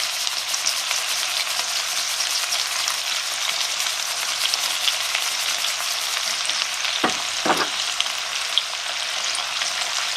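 Onion sizzles and fries in a pot at the start of a lamb tagine, a continuous crackling hiss that stays close and even throughout, with a couple of soft knocks near the end.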